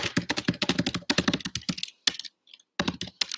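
Fast typing on a computer keyboard, dense bursts of close key clicks with brief pauses between runs, loud and alone without any voices.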